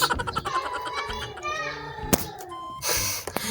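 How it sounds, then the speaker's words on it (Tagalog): Children playing noisily outside, with high kid voices and shouts coming in continuously from a distance at a steady, busy level. "Grabe na yung ingay ng mga bata"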